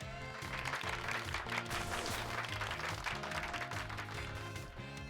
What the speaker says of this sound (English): Give Pikachu a round of applause, everyone.